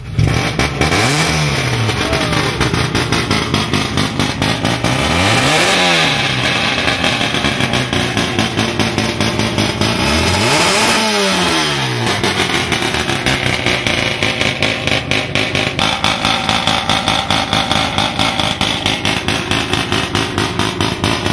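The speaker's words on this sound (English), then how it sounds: "I can start the car up if you'd like to hear it." A rotary-engine car at a SevenStock enthusiast event starts and revs hard. The engine blips sharply several times, rising and falling in pitch over a loud, buzzing idle. It sounds very close and harsh, with no talk.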